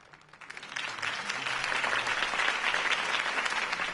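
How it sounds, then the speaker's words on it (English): A large crowd applauds a campaign speech in the city, with steady, dense clapping that swells within the first second and holds loud and sustained to the end, without talk over it. "If only Mr. Wayne, my campaign's largest backer, could have heard that applause"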